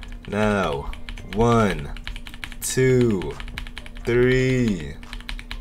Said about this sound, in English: We're going to keep clicking it till it works again.